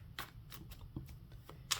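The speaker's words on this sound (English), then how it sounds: "I'm almost done with the shuffle." Tarot cards are shuffled in quick, crisp riffling bursts, several close, sharp flutters spaced irregularly with brief pauses between them and no talking.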